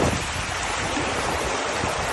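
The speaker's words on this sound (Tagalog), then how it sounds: "Lakas ng tubig eh." Rushing water at Bolinao Waterfalls in Pangasinan, Philippines: a steady, dense roar of falling and churning water, close and continuous, with no voices over it.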